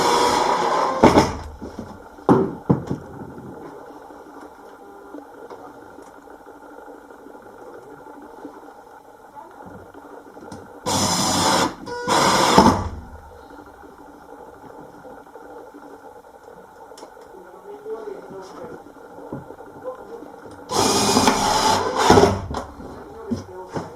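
A power driver drives screws into a wooden kitchen plinth drawer aboard a narrowboat, with three loud, close whirring bursts of a second or two each, separated by quieter handling knocks and low murmuring.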